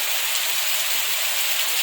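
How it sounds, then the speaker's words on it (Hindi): Heavy monsoon rain in Goa pours down in a dense, steady hiss of countless drops hitting surfaces, close and uniform, with no voices. "बारिश बहुत तेज हो रही है"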